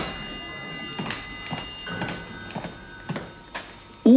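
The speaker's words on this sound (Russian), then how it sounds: "Звук открываемой входной двери." In a radio play, a front door is opened with a series of creaks and latch clicks spaced across several seconds, ending in a sudden louder thud, in a quiet room with no talk.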